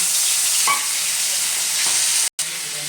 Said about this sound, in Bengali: কড়াইটা গরম হয়ে গেছে তেলটা আমি ঢেলে দিয়েছি দেখুন বন্ধুরা আমার তেলটা গরম হয়ে গেছে এবার আমি মাথাটাকে এর মধ্যে ছেড়ে দিচ্ছি